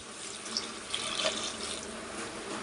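A jug of water is poured into a cooking pot of mushroom biryani masala, producing a steady, loud rushing wash of liquid throughout with no breaks; no talk.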